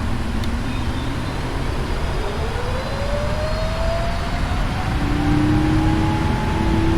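Boeing 777-300 jet engines spooling up for takeoff from JFK in rain, rendered in the PMDG flight simulator: a steady broadband roar with a rising whine that climbs and holds, loud and continuous with no talking.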